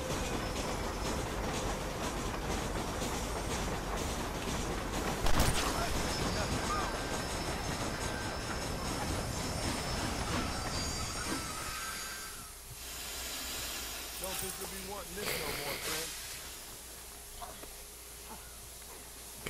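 A train rolls through a Red Dead Redemption game scene, its steady clatter and hiss running continuously before thinning out toward the end.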